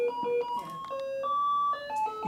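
A single-voice electronic melody from a modular sequencer, steady sustained tones stepping between pitches in a simple sequence, clear and alone.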